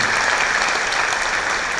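Steady, dense applause from a large audience at a motivational business talk, continuous and even throughout with no voices breaking through.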